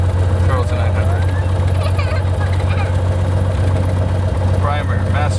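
A Cessna 182 piston engine idles at 900 rpm, a steady, loud, close-up drone that never changes, with faint muffled voices now and then.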